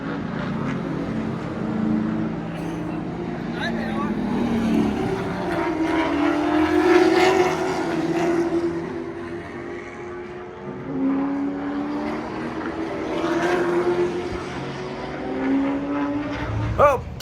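Race cars lapping an asphalt track during a New Year's practice day, engines droning and swelling as they pass at a moderate distance, rising and fading in waves with faint talk now and then.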